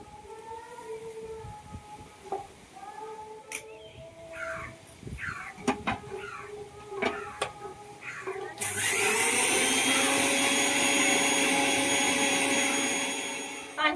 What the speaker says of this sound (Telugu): పంచదార అనేది బాగా మెత్తని పౌడర్ లాగా పట్టేసుకోవాలి మిక్సీకి అయితే